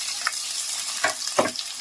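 Chopped onions sautéing in a pan for an old-style Kerala beef curry, a soft steady sizzle with a few louder stirring scrapes and clatters.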